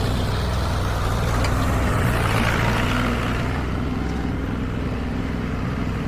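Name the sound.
tractor engine pushing a burn pile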